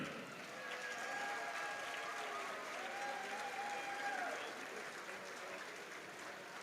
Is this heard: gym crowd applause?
yes